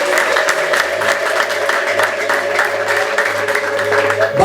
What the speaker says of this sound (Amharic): እስቲ ለጌታ እንደገና አጨብጭቡለት።